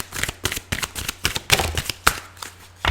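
Tarot cards being shuffled and drawn, a run of crisp riffling snaps and flicks in an uneven rhythm, close and fairly loud with no voice over them.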